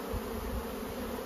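Honey bees shaken off an old, poorly drawn comb frame during spring hive work, a soft continuous swarm buzz close by, low and even throughout.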